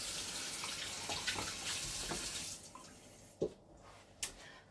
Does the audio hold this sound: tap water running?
yes